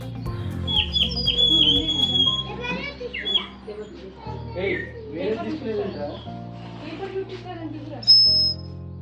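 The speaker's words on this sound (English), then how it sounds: "if you put some water from here, the lovely bird sounds will come" Water-filled bird whistle toy at a souvenir stall near Borra Caves, giving high chirping warbles and a sharp trilling tweet near the end, mixed with nearby chatter and children's voices.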